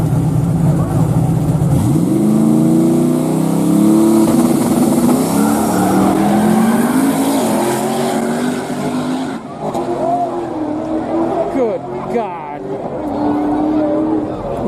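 A Mazda RX7 race car screams up through the revs on a pass, its rotary engine loud and close with rising pitch sweeps, while voices talk over it.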